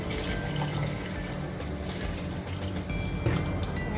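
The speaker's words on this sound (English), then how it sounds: "Alright, add my water." Water pours steadily into a blender jar of beetroot and cucumber for juice, a continuous close splashing trickle with no talking.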